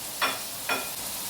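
Carrots stirred into frying spiced vegetables in a pan, two short scraping sizzles of the spoon over a low steady frying hiss, close and moderately loud.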